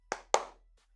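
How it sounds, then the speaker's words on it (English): Two sharp hand claps in quick succession, close and clear with a short decay, followed by near silence. "2 claps for Hot Dog."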